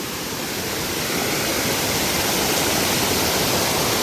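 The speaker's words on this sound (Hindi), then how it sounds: "पानी का ये झरना" A mountain waterfall in a monsoon-soaked Pithoragarh village pours with a loud, steady roar of rushing water, close and constant, with no voices.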